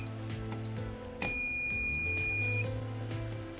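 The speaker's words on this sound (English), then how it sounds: "You're gonna go to every circuit, and the first time it's gonna beep" A handheld Harbor Freight circuit breaker finder at a breaker panel gives a single steady electronic beep lasting over a second, loud and close against a low background hum.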